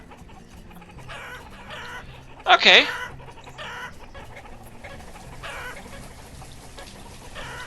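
Chickens in the video game Banished clucking with one louder, sharper squawk in the middle, set against a steady background hum and some quiet talk.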